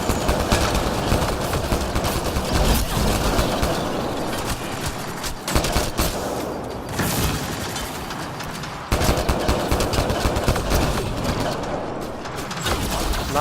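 Sustained gunfire in the video game Mass Effect Andromeda: dense, loud rapid-fire bursts crackle almost continuously for several seconds, with short pauses between volleys.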